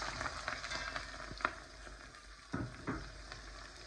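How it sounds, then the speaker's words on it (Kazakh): Onions fry in hot oil in a cauldron with a soft, steady sizzle and occasional stirring clacks, quiet and close, no one talking. "Енді үстіне пиязымызды салып қуырамыз."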